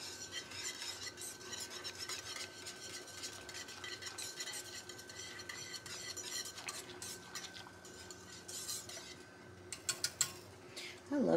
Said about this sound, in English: you do want to turn this to low and stir often